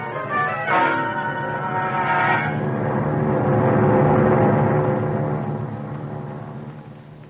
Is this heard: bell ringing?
yes